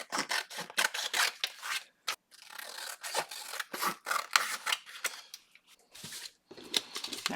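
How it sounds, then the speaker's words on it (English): Scissors roughly trim a paper junk mail envelope in a rapid series of crisp, close snips and rasping cuts, with a few brief pauses between bursts. "I'm just going to trim a little of this off. And yes, I'm trimming it very rough"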